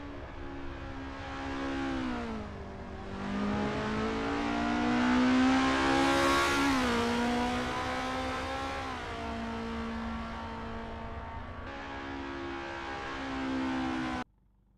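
Race cars warming up at Zandvoort in a racing video game, with engine tones rising and falling as the cars pass and change pitch; a steady close engine whine persists throughout before cutting off abruptly at the end.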